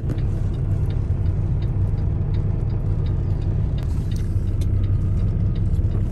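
A truck reverses at a landfill to dump trash, a steady low engine rumble close by with faint mechanical ticking and clicks over it, and no talking.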